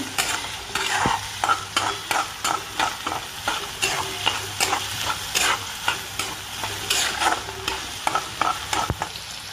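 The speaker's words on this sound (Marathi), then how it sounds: "छान असं परतून घ्यायचं म्हणजे वास येत नाही कच्चा लसूण खोबऱ्याचा" Garlic and coconut sautéed in a black kadai, quick repeated spatula scrapes and taps against the iron over a constant bright sizzle, close and fairly loud.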